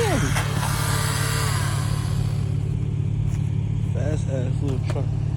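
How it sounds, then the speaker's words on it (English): A fast little truck at a car meet drives past, its engine rumbling loudly as it approaches and fades, with brief voices chattering in the background. "Fast ass little truck"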